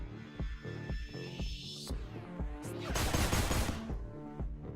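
Gunfire in Deadbolt, a game with vampire enemies, a quick series of rhythmic shots followed by a noisy burst of rapid fire and a few trailing shots, loud and close.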